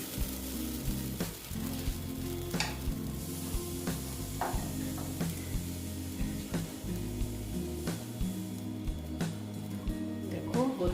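A flatbread snack made from wheat flour fries in oil in a pan, giving a continuous close sizzle. Music plays throughout and a few soft knocks are heard.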